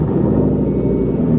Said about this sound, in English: Did you already show Corin's new tailpipe thing, how loud it is?